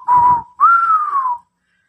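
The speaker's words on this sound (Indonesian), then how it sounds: "mendengar suara siulan yang tak menentu tapi keras dan aneh" Two loud, strange whistles, a short steady note and then a longer one that rises and slowly slides down, clear and close against silence.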